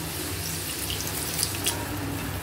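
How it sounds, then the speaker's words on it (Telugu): Water pours into a pan of cauliflower curry in a kitchen, a faint, soft, steady trickle and splash lasting a couple of seconds. "కొంచెం వాటర్ వేసుకుందామండి"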